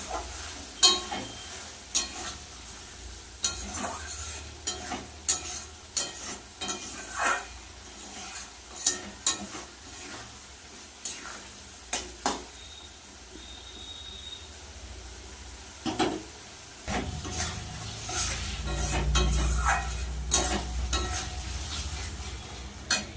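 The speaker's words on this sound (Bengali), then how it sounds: "এবার দিয়ে দেবো কেটে রাখা আলুটা আলুটা মশলা দিয়ে ভালো করে কষিয়ে সিদ্ধ করে নেব" Cut potatoes are stir-fried in spice paste in a pan, with repeated spoon scrapes and clinks against the metal every second or two over a low sizzle, which grows fuller toward the end.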